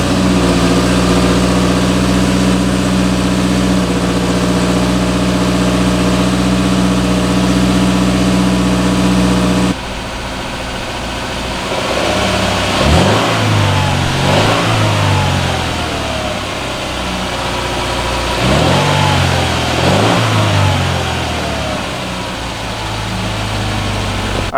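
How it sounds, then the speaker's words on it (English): A Subaru Crosstrek on its stock exhaust starts cold, holding a steady idle before settling lower, then revs up in a few separate rising bursts that fall back to idle. "we're gonna go ahead and get a cold start on the stock exhaust so you guys can take a listen"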